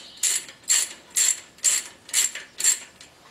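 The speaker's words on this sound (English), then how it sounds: "it takes a quarter inch hex driver" A quarter-inch hex driver ratchets a bolt out of a Jeep CJ Dana 30 front axle, six evenly spaced bursts of clicking pawl sound, close and crisp with no talk.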